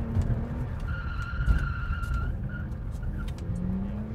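A car drifting sideways on a road with the handbrake pulled, tires skidding and squealing in sustained tones over a steady engine drone, fairly distant with no talk.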